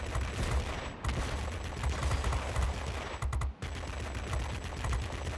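Dense, continuous crackling bursts of flak anti-aircraft fire in World of Warplanes during a high-altitude Tier IX heavy fighter battle in an F2H jet, loud and sustained with brief dips.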